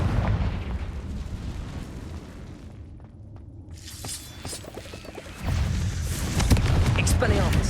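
Fiery Confringo spell blasts in the game Hogwarts Legacy, heavy booming explosions rumbling over a dense battle din, with a brief lull before a louder, crackling burst swells back up.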